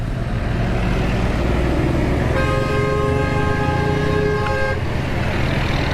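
Horns honk over dense street traffic on a busy Karachi road near Sohrab Goth, where buses leave for interior Sindh; a long sustained horn blares midway through a steady roar of engines.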